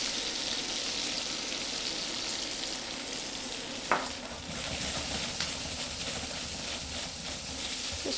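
Mushrooms sprinkled with sugar sizzle steadily as they caramelise in a hot pan for a mushroom bourguignon, with one brief clatter partway through as the pan is swirled.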